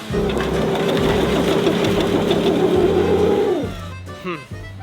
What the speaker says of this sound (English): Must be the alternator.